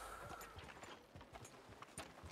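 Horse hooves clip-clop in the video game Red Dead Redemption 2, a steady run of light, close hoof beats over a low ambient bed with no talking.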